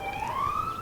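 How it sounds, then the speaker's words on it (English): A passing emergency vehicle's siren sounds clear and fairly loud, a single rising wail heard briefly and alone. "A vehicle with a siren noise just went by."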